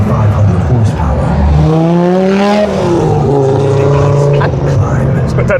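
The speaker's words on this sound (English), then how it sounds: "Under the bonnet, a 5-cylinder turbocharged engine delivering 500 horsepower." An Audi Sport Quattro S1 rally car's 500-horsepower five-cylinder turbocharged engine revs hard at an Audi F1 reveal event, its loud rising and falling pitch sweeping up and down through the clip against crowd noise.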